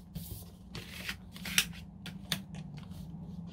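Paper is folded and creased into a big-heart paper glider: quiet, close crinkles and soft rustling snaps coming in short bursts, with no talking.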